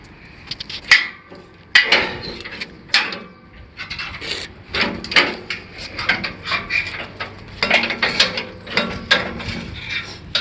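A bolt is tightened with a ratcheting tool on a VLM brick and paver machine, producing irregular bursts of close metallic clicking and scraping across the whole stretch.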